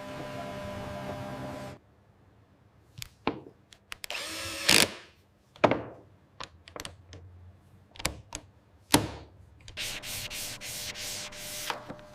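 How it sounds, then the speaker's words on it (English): Sandpaper of 120 and 220 grit rubs by hand over a buggy body in a workshop, with an opening stretch of steady scraping, then scattered short strokes and knocks, and a final run of rhythmic close sanding passes. "The entire body was hand sanded with 120 grit, then 220 grit"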